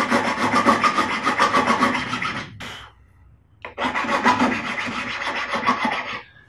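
Metal file dressing frets on a wooden guitar neck, steady rasping back-and-forth strokes close up, with one long run, a brief pause, then another sustained run of filing.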